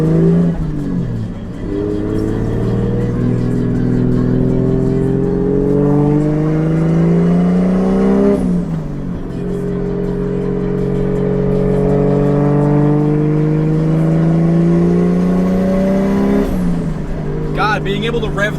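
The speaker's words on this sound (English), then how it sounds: "Being able to rev this car out for the first time" A manual-swapped Toyota Soarer with a Gen 2 3071 turbo and a stage 5 Action clutch revs hard through repeated gear pulls, engine pitch climbing steadily then dropping sharply at each shift, loud and close throughout.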